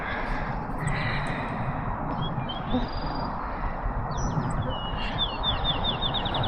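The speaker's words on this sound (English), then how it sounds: "So there's field sparrows, grasshopper sparrow, and towhee already just calling." Field sparrows, a grasshopper sparrow and a towhee call in thin, high phrases and trills over a steady, dense background hiss, with repeated buzzy notes toward the end.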